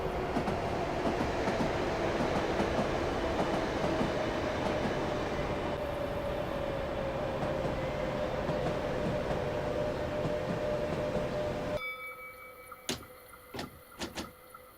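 A Class 465 electric train braking to a gentle stop in Train Simulator 2016, a loud steady rumble with a sustained whine that fades as it halts, followed by a few clicks and thumps.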